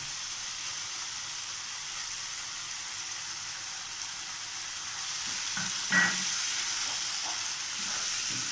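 Masala paste with cashew and poppy seed paste fries in oil, a steady close hiss of sizzling, and a few spoon knocks and scrapes come in later as it is mixed.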